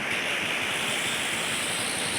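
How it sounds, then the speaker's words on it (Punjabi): Steady rushing water of waves at Harike Headworks, a continuous broadband wash like surf or a torrent, with no voices. "ਦੇਖੋ ਪਾਣੀ ਦੀਆਂ ਛੱਲਾਂ"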